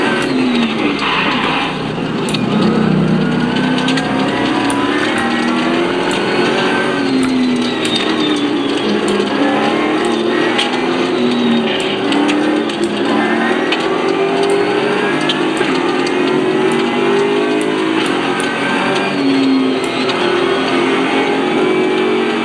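A car engine in a racing simulator game revs loud and continuous, its pitch rising and falling through gear changes, with mechanical whine and clicks layered over the steady drone.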